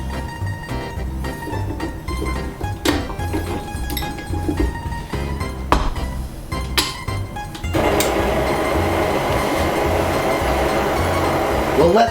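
An electric stand mixer kneading Italian bread dough, a loud steady motor whir with clinks and knocks as the dough slaps the bowl, turning into a denser, louder churn partway through.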